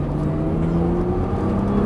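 A Nissan GT-R accelerates on a racetrack at Dreux, a steady rising engine drone with a strong tonal hum and no talk over it.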